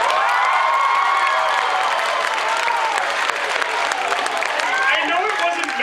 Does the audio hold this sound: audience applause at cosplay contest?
yes